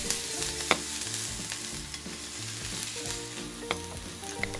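Playdough breakfast steak frying in a pan: a steady, dense sizzle with crackling pops throughout, alone, with no talk.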